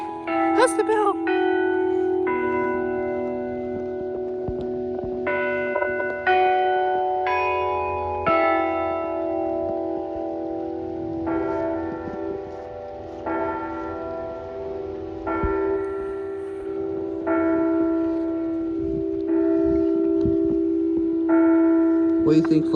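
Church bells in New York ring out the Westminster chimes, a sequence of sustained, resonant tolling tones in the familiar four-note phrases, loud and steady with long overlapping decay.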